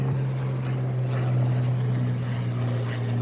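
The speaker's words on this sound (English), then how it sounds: "tell me somebody saw that goddamn helicopter" A helicopter flies low and close over a wildfire off Pell Road in Osteen, Florida, its rotor and engine making a steady, loud drone that holds without a break and with no voices over it.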